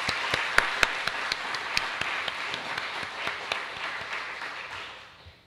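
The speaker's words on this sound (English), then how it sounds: "I think we should all clap for that." Audience applause fills a lecture hall after an artist talk at William & Mary, a steady wash of many hands clapping with sharp individual claps standing out, tapering off toward the end.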